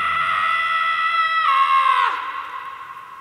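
A single drawn-out scream from a character in the Guardians of the Galaxy video game, loud and close, holding a high pitch before rising sharply and then sliding down into a fading cry.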